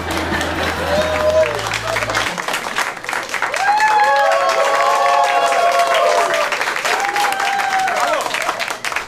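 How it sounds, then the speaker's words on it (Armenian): Loud, sustained applause and crowd noise from a comedy show audience welcoming a stand-up comedian to the stage, continuous clapping filling the whole stretch, with some music at the start. "ձեր բարձր ծափահարություններով"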